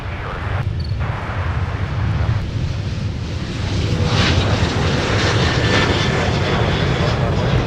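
A Sun Country Airlines jet departs runway 30 left at Minneapolis–St. Paul, a loud, steady roar of engines that builds slightly toward the end, with faint radio chatter beneath.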